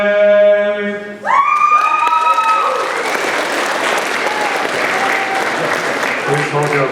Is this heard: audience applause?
yes